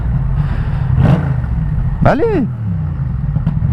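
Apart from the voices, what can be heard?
Yamaha MT-07 motorcycle riding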